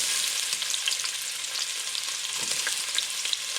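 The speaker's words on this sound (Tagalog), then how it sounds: "Ngayon naman, magigisa na tayo. Konting mantika. Lagay natin ang sibuyas." Onion sautéing in a little oil for a Kapampangan pork bola bola with misua dish, giving a steady, dense sizzle that holds evenly throughout, with no talking.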